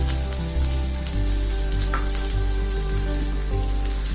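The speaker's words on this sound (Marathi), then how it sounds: "आपलं हे सारण व्यवस्थित परतवून घ्यायचं आहे." Ginger garlic paste and filling sauté in hot oil for paneer korma, a steady close sizzle with faint stirring scrapes over a low hum.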